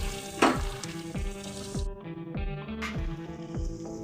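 Korramenu fish pieces fry with curry leaves in a pan for a fish curry, giving a dense close sizzle with rhythmic stirring scrapes throughout.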